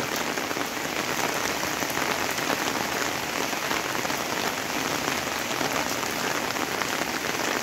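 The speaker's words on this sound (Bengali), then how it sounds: "প্রচণ্ড বৃষ্টি।" Torrential downpour over a village home near a grain store, a thick, constant roar of rain hammering surfaces nearby, steady and uninterrupted without any talking.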